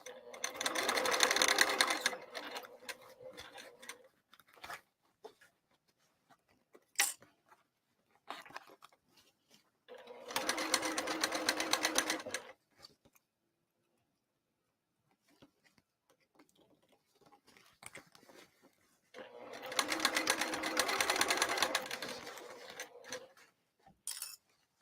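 A sewing machine stitches over rolled bag handles in three long whirring bursts, with quiet gaps between them filled by small clicks and handling noises.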